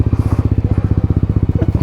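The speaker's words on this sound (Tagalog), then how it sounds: "tutulak ko lang yung motor mo" A motorcycle engine putters nearby in a fast, regular low thumping rhythm while the bike is being pushed, loud and close, with a brief voice near the end.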